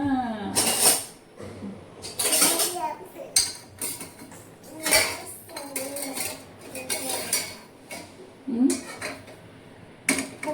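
A pressure cooker and steel pots clank and scrape in a home kitchen while dal and rice are set out, sharp metallic knocks arriving in irregular bursts amid an adult and someone talking.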